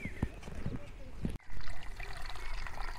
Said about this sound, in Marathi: तुम्ही पाण्याचा खळखळताना आवाज बघू शकता.